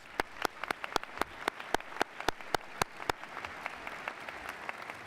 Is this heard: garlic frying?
no